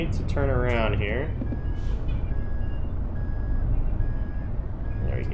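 A truck in American Truck Simulator maneuvers in reverse, with evenly spaced reversing beeps over a low rumbling engine and a hiss of air brakes, while a person talks briefly at the start.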